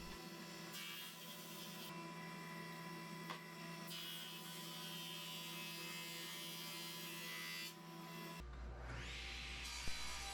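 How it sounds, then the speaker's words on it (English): A drum sander runs over a glued-up wooden board with a steady, droning motor hum and a rubbing grind, then changes tone sharply near the end as the pass finishes. "I made a couple passes through the drum sander on each side to make sure it was nice and even."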